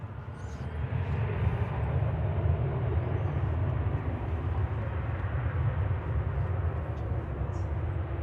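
Airplane GTAWS departing at Manchester Airport, a broad distant jet roar that swells in and holds steady at a moderate level, with no speech.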